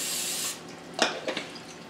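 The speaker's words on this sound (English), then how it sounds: "We'll give it a shot of cooking spray" Cooking spray is squirted over raw salmon on a plate before baking: a bright hiss for about half a second, then a few short clicky bursts of the nozzle.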